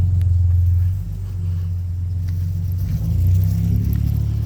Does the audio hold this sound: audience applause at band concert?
no